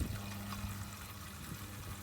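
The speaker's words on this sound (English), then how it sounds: "There come the water. Oh, there's water everywhere." Rainwater gushing out of a car part, a steady close pour running continuously with low hum underneath.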